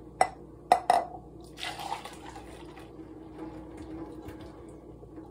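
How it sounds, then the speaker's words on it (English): Cacao drink is poured into a cup after a few sharp knocks of the container, followed by a soft, faint liquid trickle. "And now I pour this cacao"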